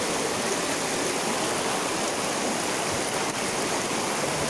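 Steady, dense rush of falling and flowing water at Casaroro Falls in Valencia, Negros Oriental, a close, continuous roar filling the whole clip with no voices.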